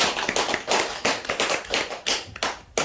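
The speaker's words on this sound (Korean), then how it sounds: "환영의 뜻을 인사 박수로." Applause from a small lecture audience welcoming a guest, a loose burst of individual hand claps at close range with uneven rhythm and no talk.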